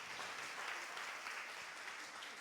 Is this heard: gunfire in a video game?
no